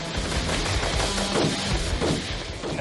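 Dense, rapid bursts of distant automatic gunfire from PKM machine guns rattle continuously, blending into a rough, crackling roar.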